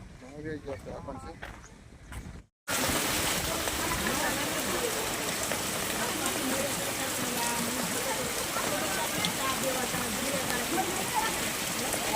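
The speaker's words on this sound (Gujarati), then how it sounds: "હા મિત્રો વરસાદ આવી ગયો છે" Steady, dense rain pours down continuously on a farm, a broad hiss with scattered drips; a brief stretch of other sound and a short silence come before it.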